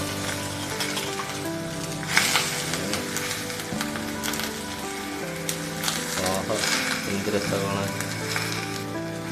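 Steady sizzling of beef frying in a pan, with occasional scraping and stirring sounds, close and continuous throughout.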